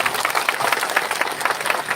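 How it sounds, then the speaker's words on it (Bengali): A rally crowd at an election meeting gives a short burst of dense, steady applause, many hands clapping at moderate distance with a faint murmur underneath. "করতালি।"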